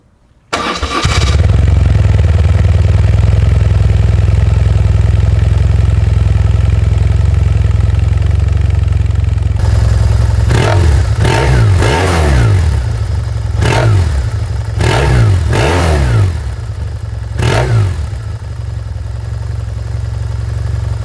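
A BMW R1100S motorcycle cold-starts with a brief crank, settles into a loud steady boxer-twin idle, then revs sharply several times in a row before returning to idle.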